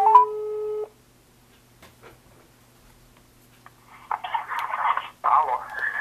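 Telephone ringing tone on an outgoing call, a loud steady tone lasting under a second, then quiet line noise before a voice answers on the phone line.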